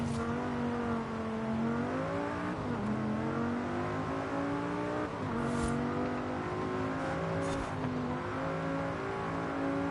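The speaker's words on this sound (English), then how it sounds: "I like the way this car sounds." A Dodge Viper V8 engine in a racing video game revs continuously, its pitch climbing and dipping as gears shift, with faint brief whooshes partway through; steady, moderately loud, no talking.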